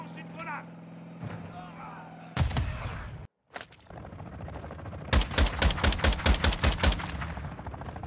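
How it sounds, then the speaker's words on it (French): A grenade is thrown and explodes in Call of Duty Warzone DMZ, with a loud low blast followed by a rapid series of sharp gunfire bursts amid game sounds and voices. "Je lance une grenade."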